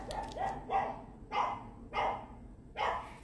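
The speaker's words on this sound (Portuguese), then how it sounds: "os cachorros." Dogs bark indoors during a nail-art livestream, with five or six sharp, evenly spaced barks over a few seconds, moderately loud and close, with no talking.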